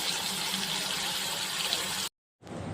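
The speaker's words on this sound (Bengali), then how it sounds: "এখন কচু পাতাটাকে ভালো করে ধুয়ে" Water runs steadily from a tap as taro leaves are rinsed in a home kitchen, a constant near rushing wash that cuts off abruptly before resuming briefly.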